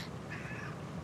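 A house cat gives a single short meow, close and moderately loud, over a steady background hum.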